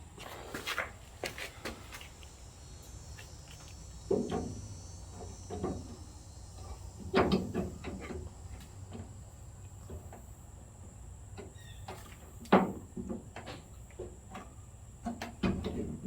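Vent window parts are fitted into the door of a 1966 Ford Bronco under restoration: sparse clicks, taps and clunks of metal and glass hardware at uneven intervals over a quiet room hum, with no talking.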